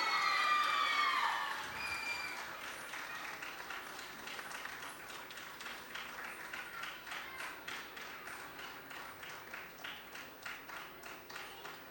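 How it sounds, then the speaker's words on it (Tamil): Applause from an audience at a dance award ceremony, starting as a loud burst of clapping and cheering, then settling into a long, steady, rhythmic clapping that fills the room. "நல்ல ஒரு உற்சாகமான கைத்தட்டல்."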